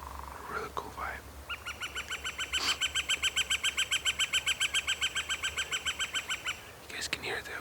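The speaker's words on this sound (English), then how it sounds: "You guys can hear the woods going alive with different birds and wildlife." A bird in foggy, wet backcountry woods gives a long, evenly spaced series of bright repeated notes, loud and close, with other calls before and after it.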